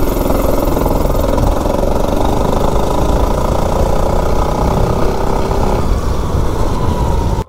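A mini bike built from spare parts runs with an 18-tooth clutch, its small engine buzzing loudly and steadily at close range for the whole stretch, with no pauses and no talk.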